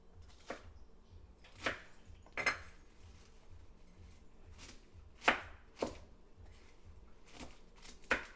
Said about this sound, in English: So you want to cut them down so it's not too big of pieces